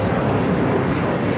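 A British Airways Boeing 777-300 touches down on the south runway at LAX, giving off a dense, steady jet roar that fills the moment without a break.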